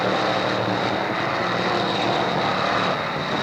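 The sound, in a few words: race cars racing at Hickory Speedway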